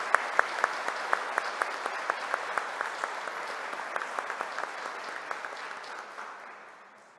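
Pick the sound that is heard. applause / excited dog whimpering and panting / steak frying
applause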